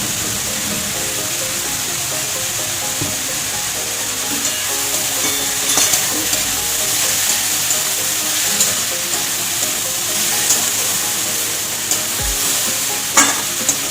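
Duck eggs for do-pyaza frying in a small amount of oil, with a steady close sizzle and occasional stirring scrapes throughout, no voices.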